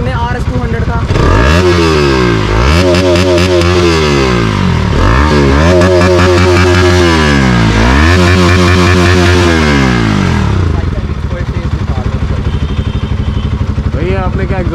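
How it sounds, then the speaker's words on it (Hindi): Bajaj Pulsar RS 200 motorcycle with a changed air filter revving loudly up close, three or four rising and falling throttle blips in a row before settling to a rough idle. "और एग्जॉस्ट नोट सुने RS 200 का"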